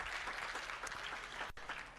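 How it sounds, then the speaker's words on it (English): A conference audience at a lodge in Naivasha claps in a dense, even burst of applause for people heading to their seats. It is brief and sustained, with no voices over it. "A round of applause for them as they go and have a seat."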